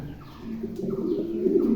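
Soft, low coos from a pair of imported black African Mundian pigeons repeat in a steady rhythm, close by, with no voices.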